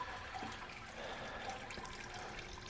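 Wort draining out through the bottom of an Anvil Foundry brewing system, a steady rushing, gurgling flow of liquid that holds at an even level throughout, with no talking.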